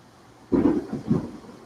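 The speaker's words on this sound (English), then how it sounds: "Oh, now we're getting thunder." Thunder rumbles during a heavy downpour, rising suddenly after a quiet start and rolling on in two or three deep, moderately loud swells.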